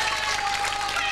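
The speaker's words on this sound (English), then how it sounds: "Let's have another round of applause for our winner, Michael." Studio audience applause for a winner on the children's TV show Crackerjack: dense, steady clapping from a crowd, held at an even level for the whole moment.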